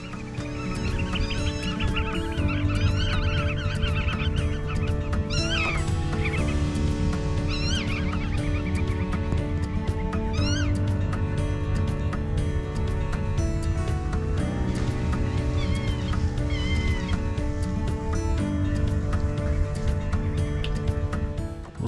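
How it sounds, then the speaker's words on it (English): Meadow birds at a photo hide in Marken fill the air with a dense, steady chorus of honking and calling, loud and close throughout, with a few sharper high calls standing out and no talking. "And you can hear all the birds."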